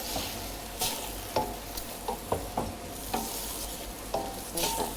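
A spoon stirs lamb colombo with carrot as it simmers in a pot. Distinct scraping knocks against the pot come in an irregular rhythm over a soft bubbling hiss. No one speaks.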